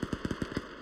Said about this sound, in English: I can hear a DMR south by southeast